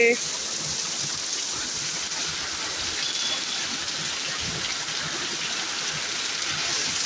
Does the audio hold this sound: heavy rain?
yes